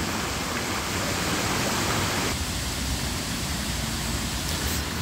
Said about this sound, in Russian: А вода бежит обычно по этому желобу. Но вот сегодня получается воды чуть-чуть больше.